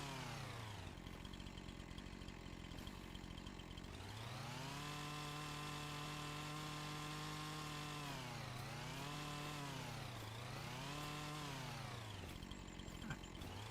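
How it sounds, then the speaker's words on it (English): A chainsaw in a farming video game cuts trees on an Iowa farm map, its engine droning steadily throughout and rising and falling in pitch as it revs through the cuts, with no talk. "Leave the chainsaw tilted a little bit."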